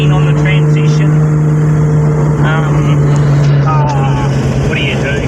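Race car on a test drive, its engine holding a loud, steady mid-pitched drone throughout with slight rises in revs, while someone talks over it from inside the car.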